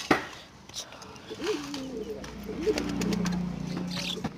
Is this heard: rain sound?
no